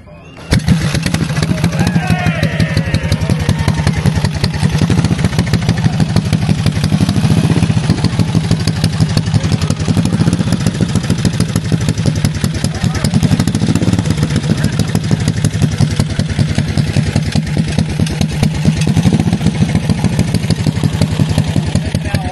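A custom chopper motorcycle with a 1700cc single-cylinder engine runs at a steady idle, with a heavy, rapid, even thumping and mechanical clatter, loud and close, after a brief start at the beginning.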